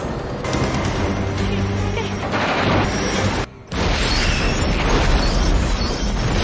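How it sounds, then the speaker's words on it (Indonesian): A bus explodes in a loud, roaring blast with heavy rumbling and crackling noise, cutting out briefly before the roar resumes just as strongly. "bis akhirnya meledak tepat ketika bensin habis dan menabrak pesawat kargo yang sedang diderek"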